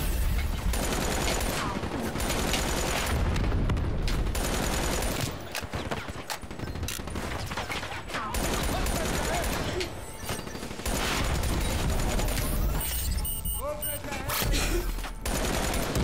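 Dense, continuous explosive gunfire and blasts from grenades in Call of Duty: Black Ops 3, loud and nearly unbroken for the whole stretch, with brief lulls and a voice speaking over the chaos.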